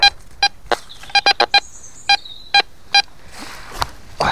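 A metal detector sweeping an old, forgotten field gives a series of short, sharp electronic beeps in irregular bursts, with a few longer tones and faint rustling between them.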